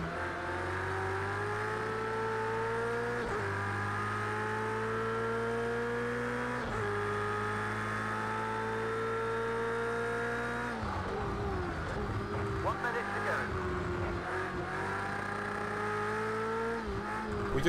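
Race car engine in the video game Project Cars 2, a loud steady drone that rises in pitch through the gears, with a few shift drops and a short rougher stretch near the middle. No talking.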